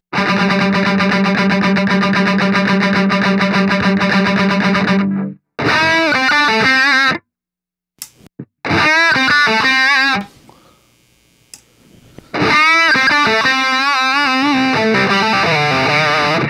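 Heavy distorted electric guitar through a KSR Ceres preamp playing sustained chords and riffs, loud and close, broken by short silences and one quiet, softer passage.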